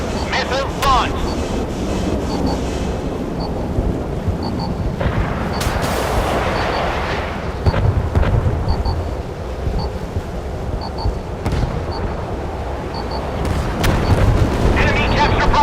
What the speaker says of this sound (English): Fire on command. Missiles launched.